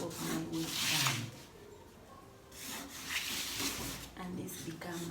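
Pattern paper for a pajama waistband is folded and creased by hand, making soft rustling and rubbing swishes in several close, quiet bursts.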